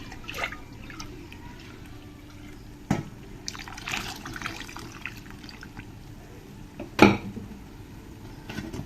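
Water trickles and drips as it is poured into sambar masala in a kitchen, a soft steady liquid sound broken by a few sharp clinks of a vessel.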